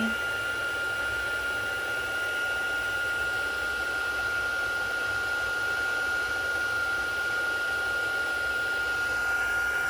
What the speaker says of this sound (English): Sometimes I feel like one side of my heat tool heats up faster than the other, and then I have to keep switching it.